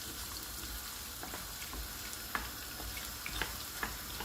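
Onion and garlic fry together in a pan with a soft, continuous sizzle, broken by occasional faint clicks of a utensil.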